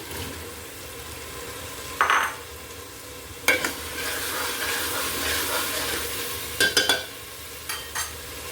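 Potatoes and egg are stirred into sizzling biryani masala in a pan, with a steady fry hiss and several sharp spoon scrapes and knocks against the pot, fairly close and quiet.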